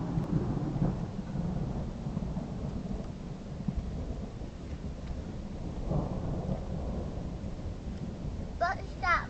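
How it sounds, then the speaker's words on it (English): Thunder rumbles low and steady through a rainy thunderstorm, with faint children's voices talking in the background. "What's that thunder called?"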